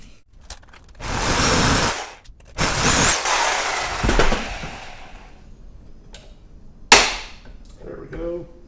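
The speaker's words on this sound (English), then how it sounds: "I'm going to take the Sawzall and carefully cut through the top layer of steel." Sawzall reciprocating saw cutting through the top layer of a steel subframe on a 1976 Ford F150 Crown Vic swap, in loud harsh bursts separated by pauses, with clanks and a sharp metallic hit.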